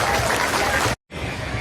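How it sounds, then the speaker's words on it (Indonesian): Dense crowd clapping at a Bogor city anniversary celebration fills the clip, cut by a brief moment of silence before the applause resumes at similar loudness. "Tepuk tangan untuk Kota Bogor."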